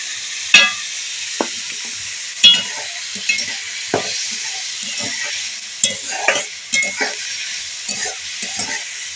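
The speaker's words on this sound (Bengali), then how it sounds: "কাঁচা লঙ্কা পেঁয়াজ বেশ খানিক্ষণ নাড়া হয়ে গেছে" Chopped green chilli and onion frying and being stirred in a pan, with a steady soft sizzle and intermittent scraping clinks of the spoon against the pan, close and fairly loud, no voices.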